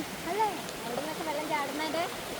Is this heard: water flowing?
yes